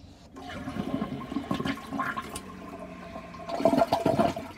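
A toilet flushing nearby, a rushing swirl of water that builds and surges louder toward the end.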